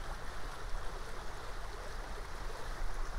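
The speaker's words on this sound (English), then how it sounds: "I'm not going to cross over the creek right here. It's a little bit high." A creek running high after rain and a winter storm with sleet, a continuous rushing, bubbling flow of water close by, steady and fairly loud with small surges, no voices present.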